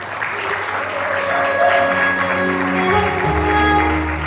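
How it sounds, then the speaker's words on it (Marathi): Continuous applause from an audience at a stage event as a guest is welcomed, steady and fairly loud throughout, with a hum of the room underneath. "आता मंचावर आमंत्रित करणार आहे जोरदार टाळ्या"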